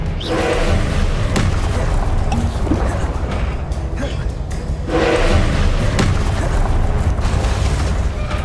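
A Confringo spell explodes in the Hogwarts Legacy video game. Loud, booming blasts and thumps land repeatedly over dense game noise, with voices calling out throughout.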